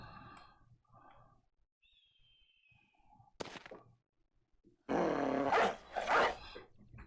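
A dog in the Battle Brothers video game gives short snarling growls and barks, sparse bursts against quiet, with a thin whistling tone and a sharp hit in between, ending in a loud, sustained snarling burst.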